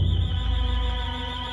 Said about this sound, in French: L'alarme retentit, stridente,